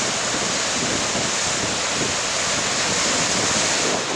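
Large waves rolling in on the Lake Superior shore at Pictured Rocks, Michigan, in high wind and rain: a steady, loud broadband roar of surf with wind buffeting the microphone throughout, no voices.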